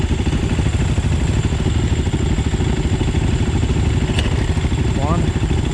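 A YZ450F, Husaberg FX450 or Husqvarna 450 dirt bike engine runs at a fast, loud, close idle with a rapid steady chugging pulse and a brief clatter near the end.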